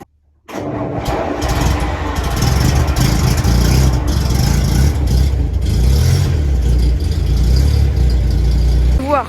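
A 1935 Bentley Derby 3.5-litre car engine cranks and catches after a brief silence, then settles into a loud, steady close-up running rumble with slight variations in pitch.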